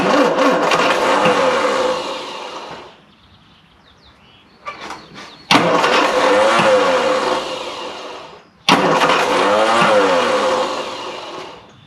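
A classic Mini van engine, off the road for 25 years and with no choke rigged, cranks and catches in three loud sustained bursts, separated by short quiet gaps.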